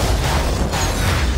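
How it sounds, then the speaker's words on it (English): An explosion in a PS5 video game roars as a loud, dense blast of rumbling noise that fills the whole short moment without a break. "Wow! Explosion!"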